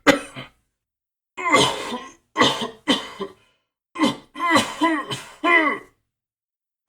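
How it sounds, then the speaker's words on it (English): Harsh, repeated coughing fits close up, several bursts in a row with short pauses between them, with no talk. "How long have you had a cough?"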